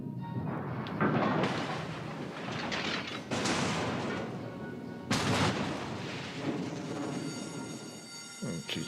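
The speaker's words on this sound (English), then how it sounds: "Guns do sound nicer" Heavy guns fire during a naval battle in a video game, loud booming salvos arriving in several separate blasts, each followed by a long rumbling decay.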